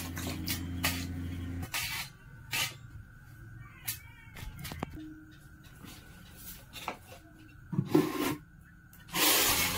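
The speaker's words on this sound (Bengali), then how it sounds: "থালাটা একটু ভালো করে ধুয়ে নিলাম" Water sprays and splashes as a plate is rinsed and scrubbed by hand, with bursts of running water broken by rubbing and clinking, ending in a louder gush.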